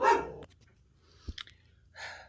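A dog gives a loud bark at the start, then a short pause with soft clicks and a thump, followed by another shorter bark-like burst, close by and without speech.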